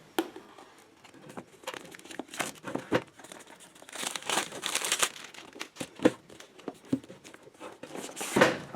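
Packaging for a Hulkman Alpha 85S car jump starter being opened, with crinkling, tearing and rustling that comes in irregular bursts, close and fairly loud, and no voices.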